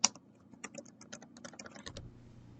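Fast computer keyboard typing entering a short phrase into a presentation slide, a quick run of close, crisp keystrokes that stops near the end over a low steady room hum.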